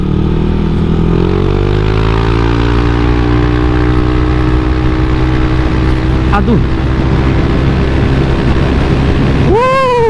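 A Yamaha Aerox 155 VVA scooter with stock tires rides over paving-block road, its engine droning loud and steady throughout, pitch climbing and then holding as it accelerates, with a short spoken exclamation near the end.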